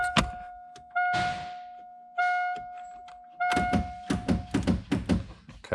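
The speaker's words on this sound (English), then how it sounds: "fuel door release works" Fuel door release on a Foxbody Mustang under wiring restoration, heard as a few solid thunks and clicks inside the car, with a steady chime tone sounding through the first part and a burst of quick clatter near the end.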